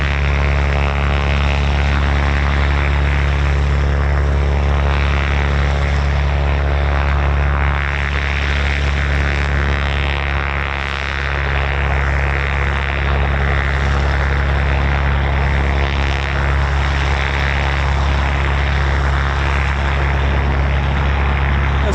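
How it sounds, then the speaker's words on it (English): Small propeller plane running its engine at a grass-runway airfield, a loud, steady drone with a pulsing propeller beat that holds close and constant throughout, with no clear rise of a take-off run. "Some pretty little plane here now."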